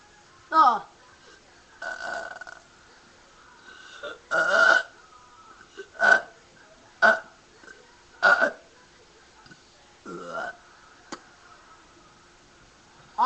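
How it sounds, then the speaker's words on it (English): Loud burps from a burping contest come one after another at irregular intervals, about eight of them, each short and throaty, with quiet gaps in between. "Here's some burps."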